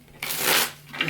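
A quick riffle of tarot cards being shuffled, a short crisp burst of papery flutter, then a softer brush of cards settling.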